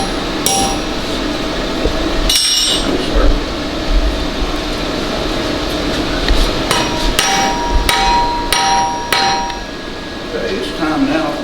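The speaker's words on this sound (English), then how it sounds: "I'm probably going to go ahead and use the vise and hand hammer" Hand hammer blows ring out on metal clamped in a vise, a scattering of sharp metallic strikes at uneven intervals over steady shop background noise.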